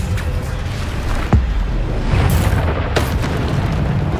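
Explosions from the Bombarda spell in the video game Hogwarts Legacy land as two sharp booms over a rumbling, noisy game background.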